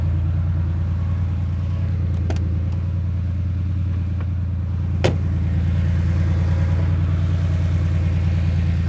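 A 1979 Porsche 911 SC engine idles steadily up close, a loud, even low rumble with a throbbing pulse, broken by a couple of sharp clicks.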